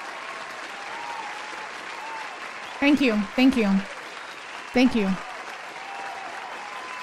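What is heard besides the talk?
applause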